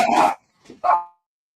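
A small dog gives two sharp barks close by, the first longer and the second shorter with a brief yip before it. The barks are loud and clear against silence.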